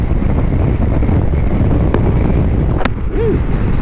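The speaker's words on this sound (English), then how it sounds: "Real windy." Strong wind buffets the microphone while riding a 2022 Yamaha Zuma 125 scooter, in a loud, constant roar that lasts the whole time.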